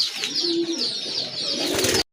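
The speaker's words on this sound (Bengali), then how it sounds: "এটাও কিন্তু অরিজিনাল পিওর দেশি কবুতর" Pure local domestic pigeons coo and murmur close by in a soft, continuous stream of throaty calls for about two seconds, with no talking over them.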